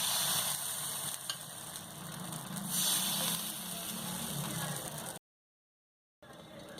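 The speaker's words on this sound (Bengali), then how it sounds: "এবার আমি 2 হাতা ব্যাটার এতে দিয়ে দেবো।" Rice batter for dudh chitoi pitha hits a hot pan with a loud, close, hissing sizzle that runs steadily, stops abruptly for about a second, then resumes.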